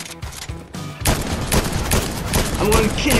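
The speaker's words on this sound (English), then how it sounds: "Oh man, this guy is shooting me." Gunfire in the Fortnite video game, with dense bursts of rapid shots crowding the mix from about one second on, loud and continuous over the game soundtrack.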